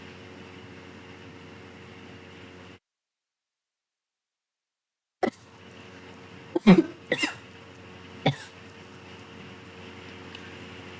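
After a long stretch of silence, one person gives a few short, sharp coughs close to the microphone, spaced over about three seconds against a faint background hiss.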